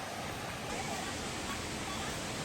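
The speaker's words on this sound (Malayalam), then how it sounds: "കോഴിപ്പാറ വെള്ളച്ചാട്ടം." Kozhippara waterfall in a forest, running low on water, as a steady broadband rush of falling water heard close and continuous.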